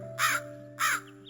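A crow in a cartoon story caws twice, loud and close, the two harsh calls about half a second apart over a steady humming background.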